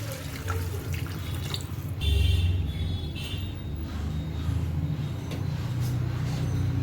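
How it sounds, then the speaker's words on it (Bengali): Water is poured into a pan of rohu fish curry with drumsticks, a continuous close splashing gush that swells in the middle and carries on steadily to the end. "এর মধ্যে এবার আমি ঝোলের জন্য জল অ্যাড করে দেব"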